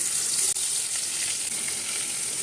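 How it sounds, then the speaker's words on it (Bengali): Puti fish coated in turmeric and salt fry in hot mustard oil in a kadai, giving a loud, steady, close crackling sizzle that runs unbroken from start to end with no voices. "তেল গরম হয়ে গেছে, মাছ দিয়ে দিচ্ছি।"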